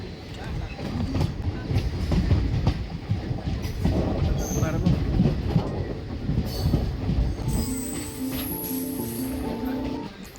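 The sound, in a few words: train moving on rails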